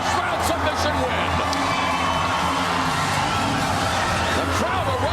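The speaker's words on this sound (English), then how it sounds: "The crowd erupts here at the Blaisdell Arena." A packed arena crowd at the Blaisdell Arena roars and cheers continuously after a first-round submission win at a fight event, with whoops and shouts over a steady dense din and a voice talking over it.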